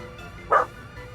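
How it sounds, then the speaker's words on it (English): A dog gives a single short bark indoors over quiet background noise. "What are you barking at?"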